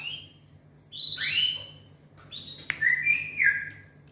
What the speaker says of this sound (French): Là, vous aurez entendu mon perroquet.